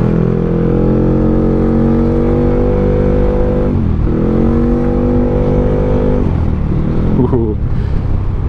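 A modified Yamaha X-Max 400cc motorcycle engine drones loudly and steadily, with the pitch dipping and recovering as the throttle changes; no one talks over it.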